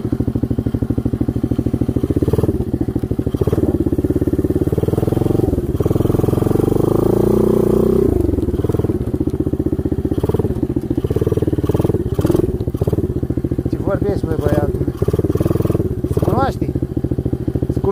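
An ATV quad with a new 125cc manual-gear engine runs loud and close, its motor droning with rising and falling revs, rattling clatter and a few revving surges throughout.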